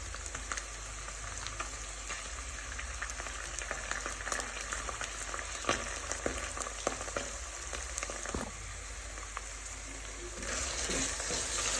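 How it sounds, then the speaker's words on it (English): A steady, close crackling sizzle of tomato paste frying in a pot for Ghanaian fisherman's stew, with occasional stirring clatters and a louder burst near the end. "when you fry this tomato paste, it gives it a sweet aftertaste"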